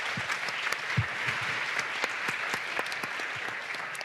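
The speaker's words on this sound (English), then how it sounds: "give a round of applause to our panelists and our speakers earlier" An audience applauding steadily at a senior-level meeting in the ECOSOC Chamber, a dense wash of clapping that stays loud throughout.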